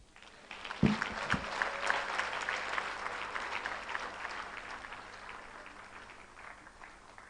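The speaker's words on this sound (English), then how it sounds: "Deserve a better round of applause." An audience at a ladies' leadership and accountability event applauds a speaker, a broad wash of many hands clapping that swells after a couple of sharp thumps and carries on for several seconds.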